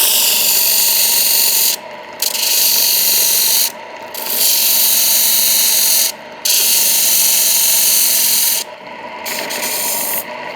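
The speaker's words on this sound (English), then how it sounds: "ideally this is done on a 72 by 2 inch belt grinder" Belt grinder shaping a wooden knife handle for a puukko, a loud continuous abrasive rubbing that runs in long passes broken by four brief pauses, close and alone with no talking.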